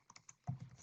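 Typing on a computer keyboard, a few light quick clicks close by followed by a heavier, duller press.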